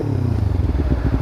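A Kawasaki Ninja 300 fitted with an Akrapovic exhaust revs hard, a loud, close, burbling engine note with rapid pulsing firing beats, held at full rev for a short burst.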